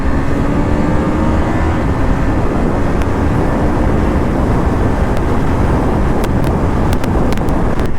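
A KTM RC 390 motorcycle rides along an open road, its engine a steady drone buried under loud, constant wind rush across the whole stretch, with a few faint clicks near the end.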